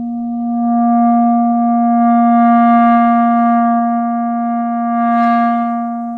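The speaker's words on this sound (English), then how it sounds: "make sure that it's an even crescendo and we're always increasing in volume and never having any like spikes or up and down, which might sound like this" Clarinet holding one sustained note in an uneven crescendo, volume swelling and dipping with a sudden spike near the end, played alone.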